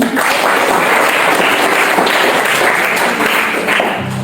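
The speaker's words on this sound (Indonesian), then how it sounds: "Boleh kasih tepuk tangan?" An audience at a church discussion on disability ministry breaks into steady, loud applause that fills the room throughout, with no one speaking.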